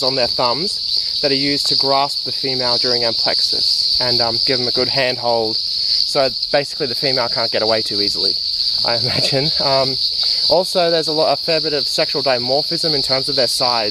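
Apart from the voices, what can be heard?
Litoria fallax frogs calling in background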